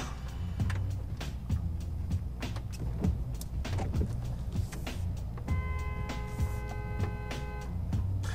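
Muffled road traffic heard from inside a stopped car, with a low engine idle, scattered clicks and knocks, and a brief electric whir near the end.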